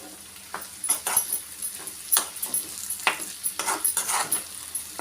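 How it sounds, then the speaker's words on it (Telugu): Potato pieces fry in a pan over a medium flame for an Andhra-style potato curry, a continuous close sizzle broken by repeated stirring scrapes and light metallic clinks, with no talk. "ఫైవ్ to 7 మినిట్స్ మీడియం ఫ్లేమ్లో పెట్టుకొని దుంపల్ని ఫ్రై చేసుకోవాలి"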